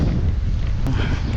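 Cool wind gusting at a hill-station lake, heard as a steady, close, rumbling buffet against the microphone that stays loud and unbroken throughout, with no voices.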